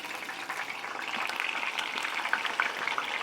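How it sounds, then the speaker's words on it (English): A thinly battered chicken nugget fries in hot oil, giving a close, steady crackling bubble with small pops scattered through it. "Drop it in the hot oil."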